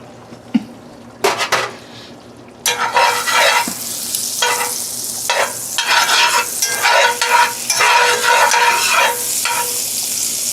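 Metal scraping and stirring in a pan while a salted, peppered steak sizzles, cooked alongside beef and barley: a few short scrapes, then louder continuous bursts of scraping over steady frying.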